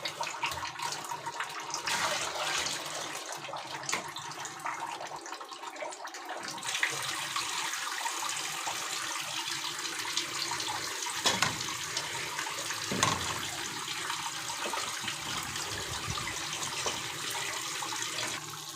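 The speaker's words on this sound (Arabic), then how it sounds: "نحضر مي حار" Hot water runs steadily from a tap while preparing a red bulgur kubba soup, a constant rushing flow heard up close throughout, with slight changes in tone as it fills.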